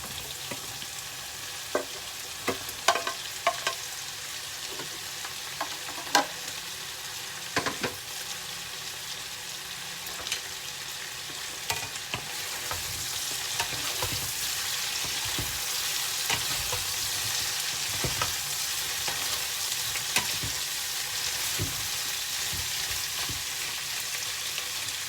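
Pork liver and kidney sizzling in a pan while being stirred, a steady frying hiss with scattered sharp scrapes and clacks of the utensil, fairly close and moderately loud, no voices.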